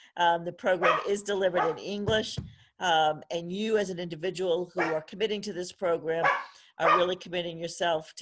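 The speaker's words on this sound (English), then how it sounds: "I apologize, that's my dog." A pet dog barks at home during a remote program presentation, with a short burst of barks caught briefly under a steady stream of speech.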